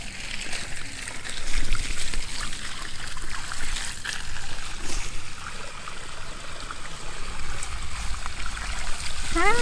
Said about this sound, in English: The water is non-stop,